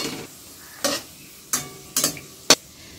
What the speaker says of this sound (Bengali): আওয়াজ পাচ্ছেন কি জানি না, খড়খড় করে একেবারে আমার এই ললিপপ হয়ে গেছে।